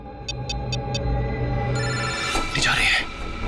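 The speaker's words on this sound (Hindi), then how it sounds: "सर फोन उठाइए।" A telephone rings in short repeated bursts, four quick electronic trills, followed by muffled voices and rustling nearby.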